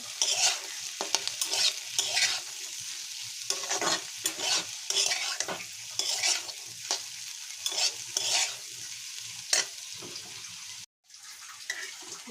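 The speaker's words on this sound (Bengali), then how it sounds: "এবার আমি অল্প পরিমাণে কাজু কিশমিশ দেবো, খুব অল্প পরিমাণে দিয়ে একটু নেড়ে চেড়ে নেব।" A spatula scrapes and stirs through cashews and raisins frying in a pan in quick, repeated strokes over a soft background sizzle, close and fairly loud.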